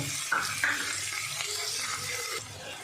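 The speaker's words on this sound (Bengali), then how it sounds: "লঙ্কা কুচি আর পেঁয়াজ কুচি একসঙ্গে সবকটা ভালো করে ভেজে নেব।" Chopped green chilli, ginger and onion fry in a pan with a hissing sizzle, a couple of short clicks and soft stirring scrapes, moderately loud and close before the sound thins slightly near the end.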